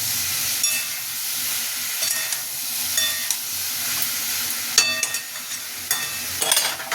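A pan of pointed gourd curry with chopped tomato being stirred: a steady low sizzle with a few scraping spoon strokes against the pan, close and alone with no voices.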